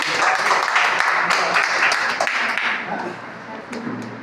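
Applause from an audience at a seminar on online business, a burst of clapping that slowly thins out, with a voice talking through it.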